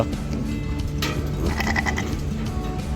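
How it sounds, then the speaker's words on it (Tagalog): A goat bleats repeatedly at a livestock expo, its wavering cries close and loud over a dense background of crowd noise. "Goat? Oh. Kambing nga."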